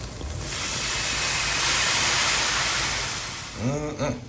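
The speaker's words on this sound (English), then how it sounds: "Take one of your bottles of clam juice, heat on high, get it ripping for a minute, and deglaze" Clam juice poured into a pan heated on high for a big-batch fish chowder gives a loud, broadband hiss that swells and then fades over a few seconds, and a voice briefly cuts in at the end.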